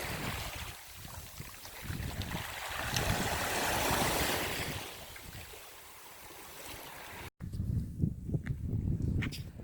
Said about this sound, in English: I rather enjoy the sound of the waves crashing here with the larger rocks